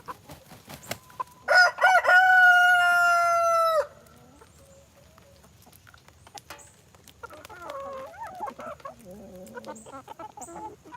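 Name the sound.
chickens clucking and crowing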